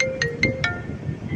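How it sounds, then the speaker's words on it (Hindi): A phone ringing out during an outgoing call: a repeating electronic ringback tone with a few pulsed chirps, moderately loud and close, with no speech. "चलो मैं अली को फ़ोन करता हूँ।"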